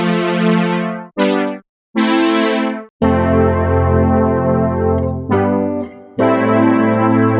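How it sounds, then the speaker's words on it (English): A bright retro synth layered under a distorted guitar, with sustained chords, short stabs and gaps between phrases, loud and up front. "Now I'm gonna see if I can find a synth to layer underneath the guitar."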